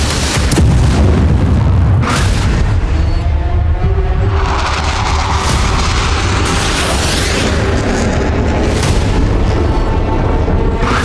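A Russian missile strike on Kharkiv brings loud, heavy booming explosions with deep rumbling that stays intense the whole time, and there are sharp blasts near the start and in the middle.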